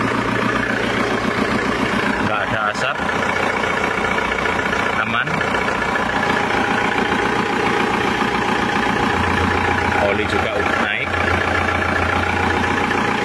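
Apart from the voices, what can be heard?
diesel car engine idling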